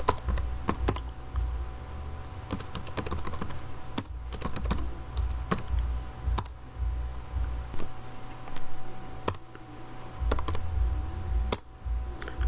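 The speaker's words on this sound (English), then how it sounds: "so allow me to type the names." Names are typed on a computer keyboard into a spreadsheet, with close, crisp key clicks in irregular bursts and short pauses between words over a low background hum.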